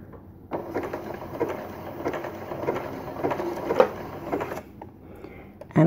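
A computerised sewing machine stitching a button on at a 4.0 setting, producing a steady mechanical whir and rapid needle patter for several seconds before stopping, with a brief knock at the end.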